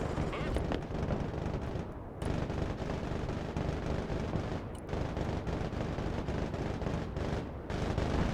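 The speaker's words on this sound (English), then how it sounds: "The Comanche's weapon seems to be overriding all the other sound in the game." In the video game Broken Arrow, a Comanche helicopter's weapon fires in a loud, continuous dense barrage of rapid gunfire and blasts that dominates the mix, with a voice speaking faintly underneath.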